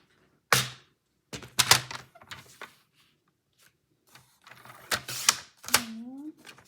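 Paper being cut on its long side for a scrapbook album page: a few sharp slicing and trimming strokes and thunks in short clustered bursts, separated by quiet gaps, with a brief voice near the end.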